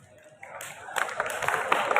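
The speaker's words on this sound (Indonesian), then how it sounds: "Teman-teman sekalian mungkin boleh dibantu buat tepuk tangan ya." An audience claps at a 2023 student council (OSIS) campaign speech at SMAN 6 Kota Bekasi, the applause swelling in after a quiet start and continuing as a dense, steady patter, with some voices mixed in.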